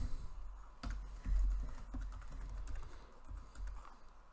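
Code being typed on a computer keyboard, a quiet, irregular stream of close key clicks and taps with no talking.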